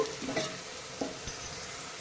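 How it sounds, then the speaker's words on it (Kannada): Onions for a restaurant-style veg biryani fry gently in a pan over a slow flame, making a soft, even sizzle with a couple of brief stirring knocks. "ನೋಡಿ ಇಲ್ಲಿ ಈ ಥರ ಈರುಳ್ಳಿ ಸ್ಲೋ ಉರಿಯಲ್ಲಿ"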